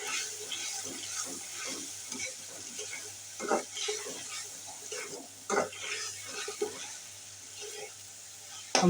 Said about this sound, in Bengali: আমি রসুনের গন্ধটা দূর করার জন্য একটু তেলে ভেজে নেব।